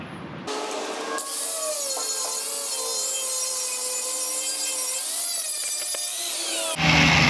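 A power tool cuts through a rusty metal tailgate, producing a steady, loud high-pitched abrasive whine with shifting tones that stops abruptly near the end.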